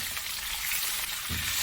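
Small squid dropped into hot cooking oil in a pan, giving a steady broadband sizzle throughout with a brief low thump near the end.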